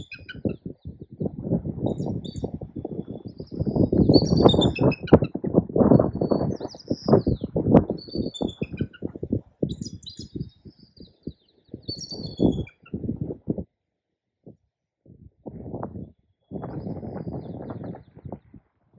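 An eagle calls in the Pacific Northwest with high, thin chirping notes in scattered bursts. A loud, rumbling low noise sits underneath, and the sound drops into short quiet gaps near the end.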